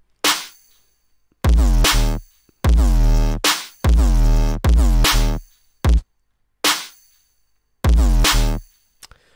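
Hybrid trap beat with booming synth sub bass and punchy drums, loud separate hits and bass swells with short gaps between them, no talking.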